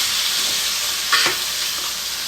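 Tomatoes stirred and frying in a pan for Nellore-style fish curry, a steady bright sizzle with one brief scrape of the spoon partway through.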